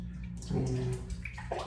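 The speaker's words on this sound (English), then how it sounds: "you're gonna pour some 40 volume developer in there" 40 volume hair developer poured into a container of water, a short steady splashing pour up close, swelling briefly and then tapering off.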